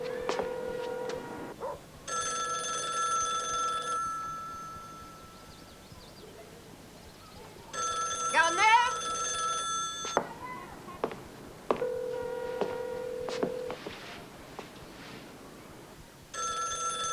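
An old-style telephone bell rings in a French film from 1993, in repeated bursts of about two seconds separated by pauses, with faint background stirring and no voices.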